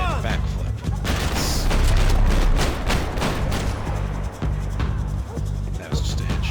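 Gunfire in the shooter game Max Payne 3, with a headshot among dense, loud rapid bursts and booming shots that crowd together almost without pause.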